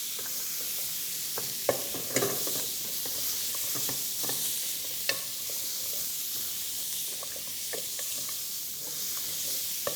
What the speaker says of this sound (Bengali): তো আমরা এটাকে ফ্রাই করে নিচ্ছি ওয়ান্ডারফুলি